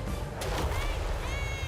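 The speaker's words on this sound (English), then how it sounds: "Some flaming cannon shots landing in the trees." Flaming cannon shots fire and strike trees in a strategy game battle: a sharp blast, then rumbling impacts and crackling, with a crowded loud mix beneath.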